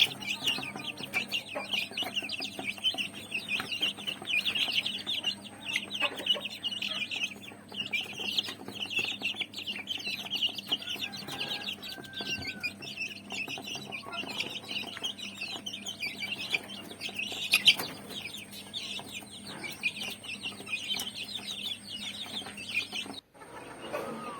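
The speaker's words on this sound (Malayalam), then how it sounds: "ഇതാണ് ഞങ്ങളുടെ ബാക്കിയുള്ള പൂവന്മാർ" Native country chickens and roosters kept in a backyard coop with hatched chicks: faint, scattered clucking and chirping that goes on steadily under a quiet outdoor ambience, with no talking.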